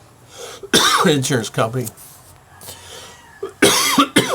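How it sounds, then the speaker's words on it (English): A person coughs several times, harsh bursts close by, with a short stretch of speech in between and another cough near the end. "Sorry about the coughing."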